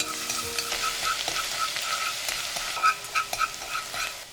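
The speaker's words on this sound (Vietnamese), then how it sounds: "Dầu nóng thì mình cho tỏi và chỗ hành tím băm lúc nãy còn lại vào phi lên cho thơm." Steady sizzling of minced garlic and shallots frying in hot oil, with crackling pops and a few utensil scrapes as they're stirred.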